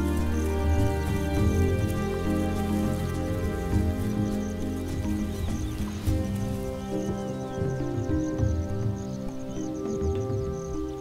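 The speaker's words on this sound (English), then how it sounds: "the rainy season once again has its grip on the land." Rainy-season rain falls across the Serengeti savanna as a soft, steady patter beneath loud, sustained orchestral music, with no voices.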